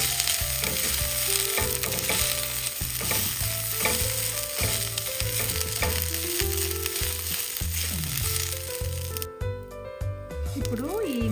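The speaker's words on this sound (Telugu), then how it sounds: "గ్రీన్ చిల్లీస్ అవి కూడా వేసేసేయండి. ఓకే, అవన్నీ ఫ్రై చేయండి కొంచెం ఒక 1 మినిట్." Green chillies, mint and vegetables fry in oil for a vegetable dum biryani, a loud steady sizzle broken by repeated scraping stirs of a spatula, while someone talks over the cooking.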